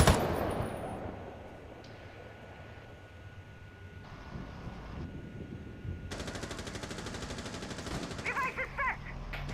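Video game gunfire from a character's guns in a shooter match, rapid machine-gun bursts that start faintly and build into sustained automatic fire, with mechanical whirring and bright clicks near the end.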